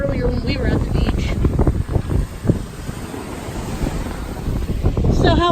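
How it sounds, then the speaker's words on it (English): Big ocean waves at the Daytona Beach pier surge and crash beneath loud wind buffeting the microphone, with voices talking over the roar. "These waves are insane."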